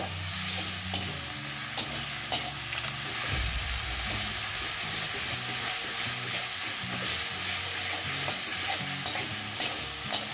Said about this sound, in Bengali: এই পেঁয়াজটা দিয়ে ভালো করে কষাতে হবে।